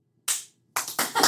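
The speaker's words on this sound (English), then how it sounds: "A smattering of applause." Sparse applause from a small live comedy show audience: a single clap, a pause, then a few scattered claps from several people, close and brief.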